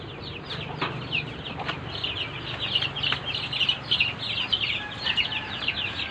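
Chicks being placed into a newly built chicken coop, with steady high peeping and chirping from many birds close by plus occasional clucks, no talking.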